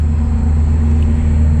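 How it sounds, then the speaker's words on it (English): Road traffic rumbles nearby in cold weather, a constant low droning roar of passing cars with no breaks and no voices. "Sorry for all the traffic noise."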